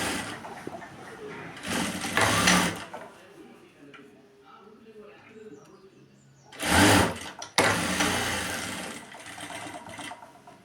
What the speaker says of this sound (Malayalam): വീണ്ടും ഒന്ന് മടക്കിയിട്ട് വള്ളി നമുക്ക് സ്റ്റിച്ച് ചെയ്ത് പിടിപ്പിക്കാം